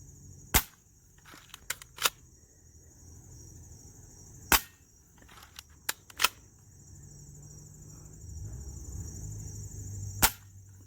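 Crosman PSM45 air pistol firing BBs at small spinning targets, giving a series of sharp, isolated snapping shots spaced irregularly, each followed by a faint metallic ping, over a quiet outdoor background.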